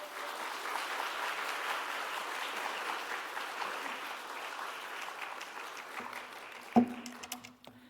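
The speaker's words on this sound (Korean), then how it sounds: "우리 따뜻하게 박수로 환영하도록 하겠습니다" A church audience at a New Year revival service claps warmly in welcome of the pastor, a steady wash of applause that runs several seconds before tapering off, with a few sharp knocks near the end.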